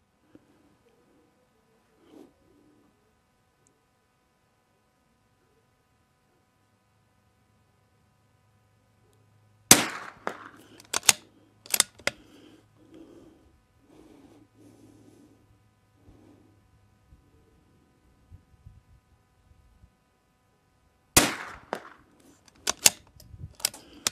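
Rifle shots fired at a target in a five-round group: sharp, loud cracks in two clusters, three in quick succession, then a pause with faint low murmuring, then two more.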